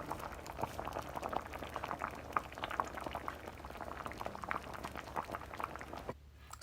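A pot of peas cooking in coconut milk with a Scotch bonnet pepper bubbles at a steady simmer, a soft, dense stream of small pops close by that cuts off just before the end.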